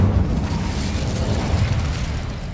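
A fire spell blast cast in a Hogwarts video game, a sustained low rumbling roar that holds steady and loud for the whole stretch.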